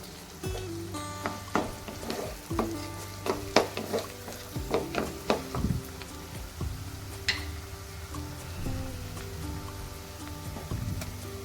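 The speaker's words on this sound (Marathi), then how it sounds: "आता आपण यामध्ये मॅरिनेट केलेलं मटण यामध्ये टाकणार आहोत" Marinated country chicken drops into golden fried onions in a hot pan, setting off a loud sizzle with repeated clatters and scrapes of stirring and bursts of spattering oil, with no talking.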